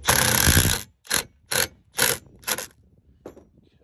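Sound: ratchet tightening a turbo blow-off valve on an intercooler

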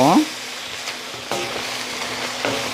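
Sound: potatoes and shishito peppers simmering in soy sauce

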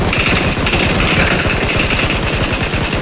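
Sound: gunfire in the video game PUBG Mobile

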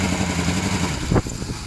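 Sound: engine running

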